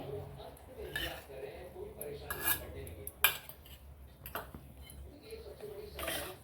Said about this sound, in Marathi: आता आपण हे सगळं मिश्रण मुगाचं याच्यात टाकू आणि चांगलं मिक्स करून घेऊ